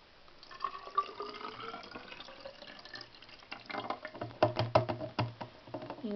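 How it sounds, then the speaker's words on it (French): Water squirted from a laboratory wash bottle into a graduated cylinder to top it up to 100 ml, a thin trickling stream that grows louder and more splashy, ending in close, irregular bubbling gurgles. "Et nous allons compléter avec notre piscette jusqu'au seuil de 100 ml."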